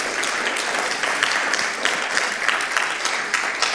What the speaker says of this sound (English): Ladies and gentlemen, please welcome all my panelists with warm applause